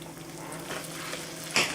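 Chicken breasts frying in plenty of butter give a low, steady sizzle close by, with a brief clink of a utensil near the end and no talk.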